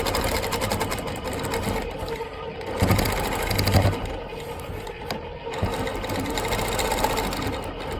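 A longarm quilting machine stitches in the ditch around the inside shape of a star on a client quilt, giving a steady, close, continuous mechanical hum that runs the whole time with slight swells in pace.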